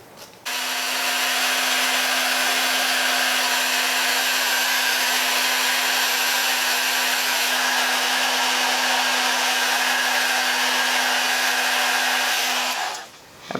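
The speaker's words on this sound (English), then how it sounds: "before I put the blow dryer on it" A blow dryer runs steadily on kinky hair during a wig blowout, a loud constant whooshing hum that switches on with a click, holds for about twelve seconds and cuts off at the end, no speech.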